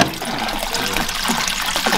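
Water rushing into an aquarium filter overflow as it refills, a loud, steady gushing and gurgling that stays close and continuous, with no voices.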